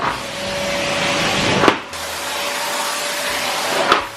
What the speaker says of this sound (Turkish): Süper süpürüyor ya.